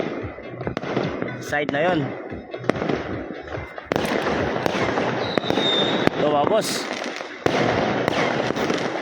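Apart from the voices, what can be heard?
firecrackers and fireworks at Lunar New Year celebration, Vietnam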